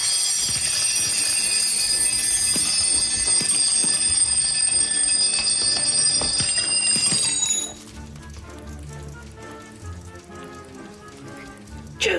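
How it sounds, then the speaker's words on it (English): Several alarm clocks ring together in a loud, dense metallic clatter for about seven and a half seconds, then stop abruptly, leaving quieter background noise during a timed game-show challenge. "you must have switched off all of the alarm clocks at the end of 90 seconds"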